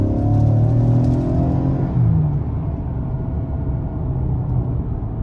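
A 2023 Ford Explorer ST-Line with the 2.3-litre turbo engine accelerates in sport mode, its engine note rising loud and close from inside the cabin before settling into a steady road rumble.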